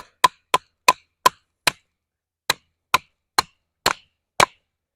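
A Dispatch reverse tanto flipper knife with a hollow grind chops into a wood knot in about ten sharp, close thwacks, a quick cluster of five, a pause, then five more.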